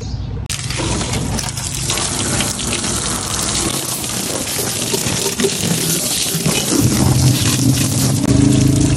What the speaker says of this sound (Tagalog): Spray na lang natin siya ng tubig.